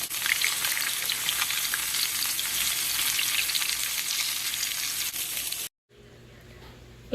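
Salmon and tilapia fish fry in a pan with a loud, dense, continuous sizzle that cuts off abruptly near the end, leaving a quieter hiss.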